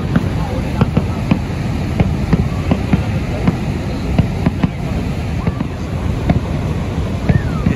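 Fireworks go off over Niagara Falls at night: scattered sharp pops and bangs at irregular intervals, heard against a constant roaring wash of falling water and wind.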